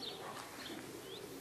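Racing pigeons arriving at a loft during a Polish pigeon-club race return, with faint soft coos and chirps rising over a steady outdoor background hiss.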